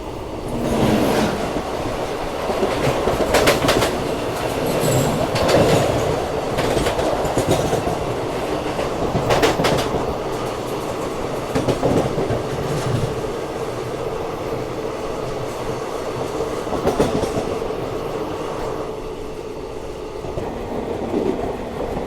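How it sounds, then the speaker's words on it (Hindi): Ernakulam–Hazrat Nizamuddin Duronto Express passing close alongside, a loud continuous roar of wheels and rail with rhythmic clickety-clack beats throughout, heard from a moving train. "सामने से आ रही है एर्नाकुलम हज़रत निज़ामुद्दीन दुरंतो एक्सप्रेस"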